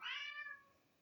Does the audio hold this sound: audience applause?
no